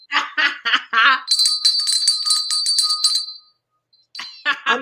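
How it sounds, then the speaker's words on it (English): A studio bell rings with a rapid, bright ringing that lasts about two seconds, loud and close, with laughter and talk just before it and resuming after. "I missed my studio bell."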